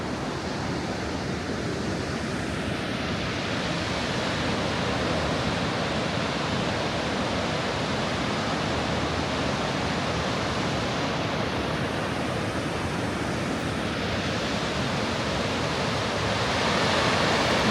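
A waterfall roars in a mountain village on the Annapurna Circuit, a broad constant wash of falling water that stays steady and loud throughout, with no voices over it.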